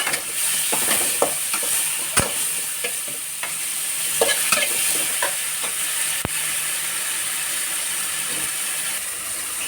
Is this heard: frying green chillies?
yes